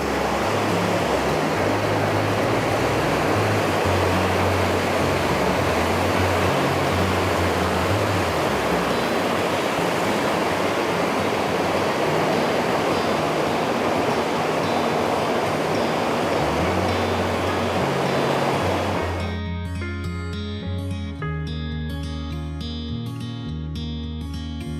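A creek flowing beneath a footbridge on the way to Foster Falls, a steady broadband rush of water over wet rocks heard alone. Music comes in near the end.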